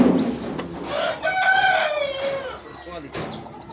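A rooster crows amid clucking chickens on a farm, the call rising and trailing off over about two seconds, close and fairly loud, with a voice speaking over the birds.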